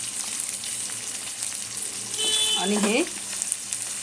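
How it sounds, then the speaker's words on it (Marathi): Green peas with a little salt sauté in a pan over medium heat, giving a steady close sizzle with stirring scrapes that swell midway. A voice speaks briefly over it. "मीडियम आचेवरती आपल्याला परतून घ्यायचं आहे"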